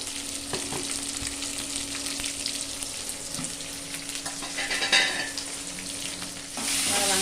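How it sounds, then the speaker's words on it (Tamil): Vegetables and tomato sauté in a pan with a steady, soft sizzle and occasional stirring scrapes, continuous and fairly quiet throughout, growing a little brighter toward the end. "காயை கொஞ்சம் வதங்கிட்டு தக்காளி போட்டுறேன்"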